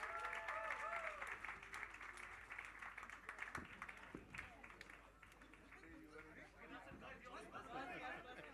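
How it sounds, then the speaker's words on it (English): A crowd applauds in a hall at a media and entertainment book launch as Shah Rukh Khan is welcomed, with dense continuous clapping mixed with murmured chatter that eases slightly midway, then swells again. "With a huge round of applause, please welcome King Khan"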